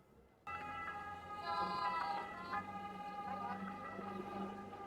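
An ambulance boat's wailing siren swells in and passes nearby, its warbling tone loud and continuous over a low engine rumble.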